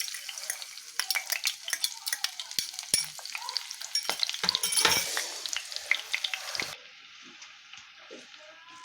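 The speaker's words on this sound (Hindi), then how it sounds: "अब कढ़ाई में हम ऑयल डालें, ये जो अंडा हम तला हुआ उसका ही ऑयल है। अब इसमें ऑनियन डालेंगे।" Onions sizzle and fry in reused egg-frying oil in a kadai, a loud, crackling hiss with stirring scrapes and spatters that suddenly drops to a quieter simmer near the end.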